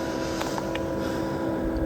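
24V, 7000 rpm motor of a forced exhaust fan on a camping wood stove, a steady, continuous drone and whir at moderate loudness with no pauses, alone without talk.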